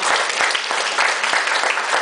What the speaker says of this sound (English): Would you please give yourselves a round of applause?